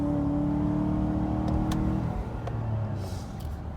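A 2018 Chevrolet Suburban's engine roars steadily up close under heavy throttle, then eases into a lower, calmer drone with faint clicks.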